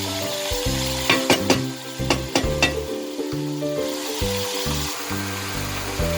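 Pork ribs stir-fry dry in a pan, sizzling and hissing up close while a spatula scrapes and clacks in uneven bursts against the pan over a low background tone.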